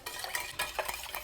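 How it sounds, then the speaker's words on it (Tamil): Milk and sugar being stirred together for an eggless brownie batter in a home kitchen: a short run of soft scraping and light clinks from a spoon against the bowl, fairly close and quiet, with no talking. "இந்த மில்கையும் இந்த சுகரையும் மிக்ஸ் பண்ணிட்டுருக்கோம்"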